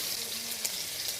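Chopped onion goes into shrimp already frying in oil, producing a brief, even hiss of sizzling that is close and moderate in level.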